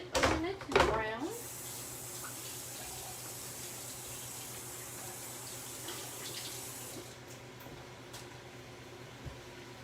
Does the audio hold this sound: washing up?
yes